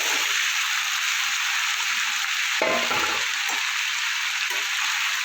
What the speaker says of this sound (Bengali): দিয়ে ভালো করে আমি একটু ভেজে নেব।